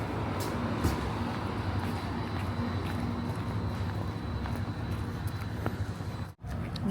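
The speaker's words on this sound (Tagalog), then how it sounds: "Oh, the bus is already here." A bus pulls in at a stop in Den Bosch, a steady engine hum and broad street noise running evenly throughout, with a brief cut near the end.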